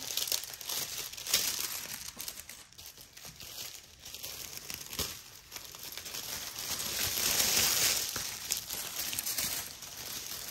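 Purple foil-backed paper being cut for Halloween treats gives close, quiet crinkling and crackling that rises and falls over several seconds, with no talking.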